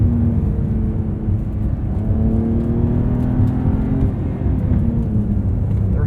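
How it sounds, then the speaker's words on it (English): A 2023 Porsche 911 Carrera T with a manual gearbox and turbocharged flat-six engine revs with a loud, throaty, guttural drone, heard close and steady throughout. "A little bit more of a throaty, guttural sound to this flat 6."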